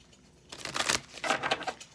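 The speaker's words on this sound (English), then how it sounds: "Shuffle, shuffle." Oracle cards being shuffled by hand, two short bursts of crisp riffling and flicking close up, separated by a brief pause, with no talking.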